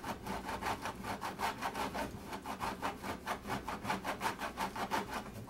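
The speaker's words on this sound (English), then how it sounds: "Of course, it smells really good as you're grating it." Cheese being finely grated by hand for an olive pizza, a close, steady run of quick rasping strokes at an even rhythm, with no talking.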